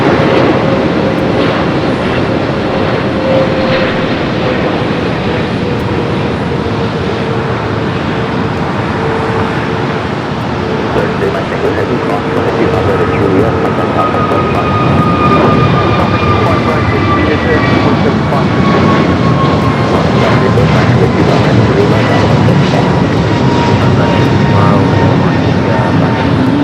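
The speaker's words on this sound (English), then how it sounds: "Flight 884 coming in from Hong Kong on the 777 at 300ER, your next heavy arrival." Boeing 777-300ER heavy jet arriving at Los Angeles LAX from Hong Kong, a loud sustained engine roar with a sliding whine that builds toward the end, with a voice speaking over it.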